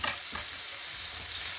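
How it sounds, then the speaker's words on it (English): Cajun sausage sizzling in a skillet as it is stirred, a steady loud hiss with a couple of brief scraping stirs at the start, no talking. "I bet this is kind of loud. This sizzling going on."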